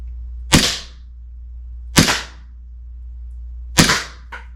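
An RWA Agency Arms EXA airsoft pistol fires three sharp, loud shots spaced more than a second apart outdoors in freezing weather, each followed by a short decaying crack, with a faint fourth click at the end.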